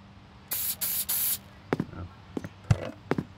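Three short, loud bursts of spray paint hiss back to back while a go-kart is resprayed in Gearhead Karting, followed by a few quieter clicks and knocks.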